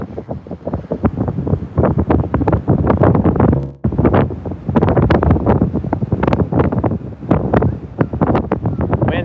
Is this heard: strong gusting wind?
yes